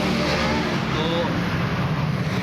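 A vehicle on a road gives a constant engine and road rumble, heard from inside or nearby, while people talk over it.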